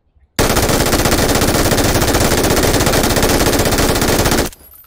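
A light machine gun in the video game PUBG on PC fires one long, continuous burst of rapid shots for about four seconds, loud and close, then stops abruptly.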